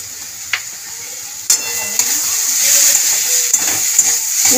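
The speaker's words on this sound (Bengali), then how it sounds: "নাড়িয়ে চাড়িয়ে ভাজা করে নেবো ফ্রেন্ডস ভালো করে" Beetroot fries with sugar, poppy seeds and sesame in a pan, giving a steady close sizzle broken by scraping and clinking as a spatula stirs it.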